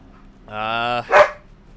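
A pet dog lets out a single loud, close bark with a long tonal, whining onset followed by a sharp burst, in an indoor home setting with a cat nearby.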